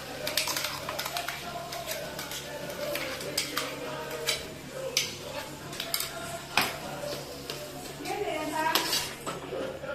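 Masala paste being stirred into tomato curry in a metal pan, with repeated sharp spoon clinks and scrapes against the pan and soft sizzling underneath, while a person talks.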